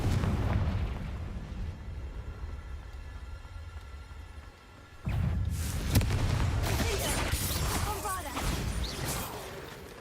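A Confringo blasting spell erupts in a cave in a video game, a sudden loud explosive burst with rumbling debris after a quieter stretch, while a voice calls out spell names.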